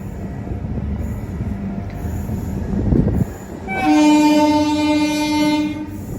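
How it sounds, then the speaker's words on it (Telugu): A MEMU passenger train pulls out of Nidadavolu Junction, with low rumble and wheel noise, then a loud, sustained horn blast near the end. "రైట్ టైంకి మన ట్రైన్ అయితే స్టార్ట్ అయిపోయింది నిడదవోలు జంక్షన్ నుంచి."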